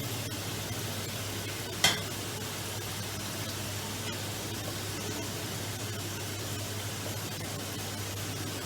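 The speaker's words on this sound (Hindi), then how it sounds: "थोड़ा सा इसको भून लेंगे गरम मसाले को भी।" Whole garam masala spices and ginger-garlic fry in a pan with a steady, even sizzle and faint stirring, plus one sharp metallic clink near the start, with no talking.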